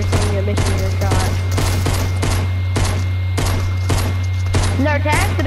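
Rapid video-game gunfire from Fortnite, repeated bursts of shots in quick succession, loud and close throughout, with game sounds and a voice briefly mixed in.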